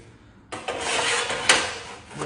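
Ceramic tile being scored on a Sigma manual tile cutter, a steady close scraping rasp of the scoring wheel running across the glaze for about two seconds, with a sharper scratch near the end.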